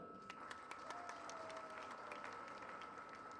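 Audience applause in an auditorium at a literary and cultural conference in Karachi, a steady wash of clapping that runs at even strength from start to end, with no voices standing out.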